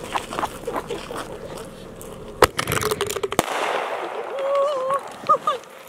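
Fireworks go off outdoors in a quick string of sharp cracks and pops, then a hissing, whistling burst, with people talking nearby.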